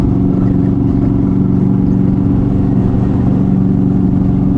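An Indian Scout Bobber motorcycle accelerates to pass a tractor on a road, its engine a steady, loud mid-pitched drone with wind rush, continuous throughout without talk.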